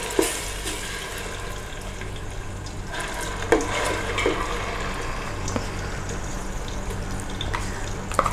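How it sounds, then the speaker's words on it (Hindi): Onion paste sizzling and frying in hot oil with cumin in a pan, a steady crackling hiss with occasional stirring scrapes, close and continuous throughout. "और प्याज को हम अच्छी तरीके से भूनेंगे।"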